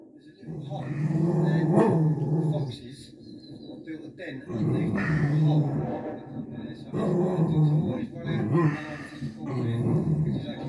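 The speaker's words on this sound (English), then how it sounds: "He's barking at his own picture." A dog barks repeatedly at its own image on a television screen indoors, sharp yaps and bow-wows coming in bursts close by, mixed with TV sound and people talking over it.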